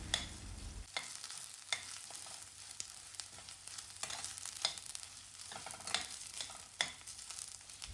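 Potatoes fry with ginger garlic paste in a pan, a soft steady sizzle broken by regular scrapes and taps of a spoon as they are stirred, close and moderately loud with no voices.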